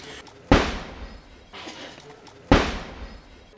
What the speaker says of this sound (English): a fierce exchange of gunfire between the police and the gangsters